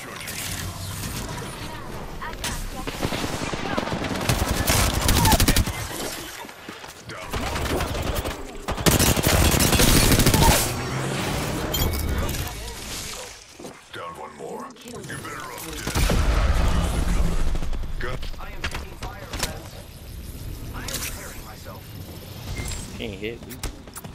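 Video game gunfire in several loud bursts of rapid shots separated by quieter stretches, mixed with game effects and a player talking over much of it.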